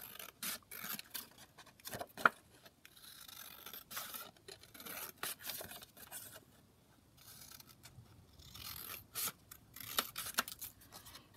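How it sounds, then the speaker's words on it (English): Scissors snipping around a piece of card during journal crafting at a desk, with short irregular cuts and rustling, quiet and close, and no talking. "so if I just cut around that"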